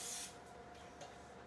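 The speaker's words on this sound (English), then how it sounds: "you wanna spray your pan so it's non-stick." Cooking spray hisses onto a grill pan in one short close burst at the start, fading into low kitchen background.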